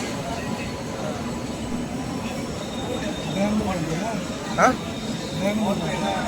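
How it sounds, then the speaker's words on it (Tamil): The Tatanagar Express, a north-bound train via Perambur, passes with a steady, continuous rumble and rush, heard over close, constant talk from people on the platform. "இது நார்த் இந்தியன் போகிற வண்டி, டாடா நகர் எக்ஸ்பிரஸ்"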